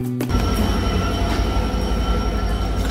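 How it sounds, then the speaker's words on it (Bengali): Varendra Express train at Abdulpur Junction, a loud, steady rumble of rolling wagons with faint wheel squeal and a constant rail drone, heard from on board with no talk. "এখন আমাদের ট্রেনটা উল্টা দিকে চলবে"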